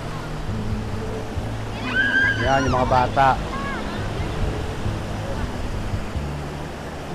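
Sea waves wash onto a clean sandy beach at Real, Quezon, a constant soft surf and wind rush throughout, with voices of people and children speaking briefly in the middle.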